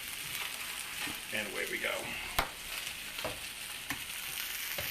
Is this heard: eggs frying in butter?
yes